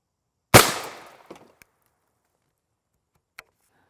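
A single sharp 7.62 NATO M80A1 rifle shot from a 13-inch barrel cracks loud and close, then fades in a short echoing tail, followed by a few faint clicks.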